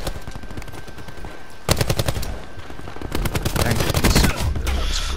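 Rapid automatic gunfire in the Call of Duty Black Ops 4 video game, loud close bursts starting abruptly and repeating in fast rattling volleys with brief gaps, continuing steadily to the end.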